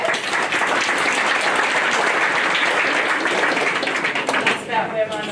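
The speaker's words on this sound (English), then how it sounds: "So can we please give him a warm round of applause?" Sustained audience applause fills a hall at an eSafety event to welcome a CEO, a dense wash of many hands clapping at steady loudness that thins slightly near the end.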